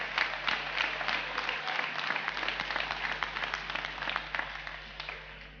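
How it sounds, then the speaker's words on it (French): Crowd applauds at the Eurogénétique livestock show, young handlers' class, with brisk, dense clapping from many hands that stays lively and slightly uneven throughout. "on peut les applaudir déjà bien fort pour cette remarquable section"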